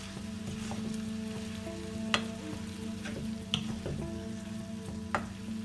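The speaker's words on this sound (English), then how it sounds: "I'm just going to gently mix this in." Rice with pepper stir-fried in a granite wok, a soft steady sizzle with a low hum, broken by a few sharp spatula taps against the wok, close and without talking.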